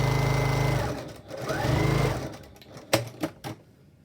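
A sewing machine stitches the folded edges of a fabric face mask in two short close runs of buzzing whir, then a few sharp clacks as it stops.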